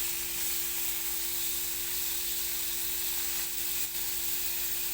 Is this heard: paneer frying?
yes